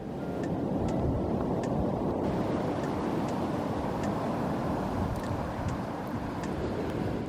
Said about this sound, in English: I could have stood there for hours just listening to the waves.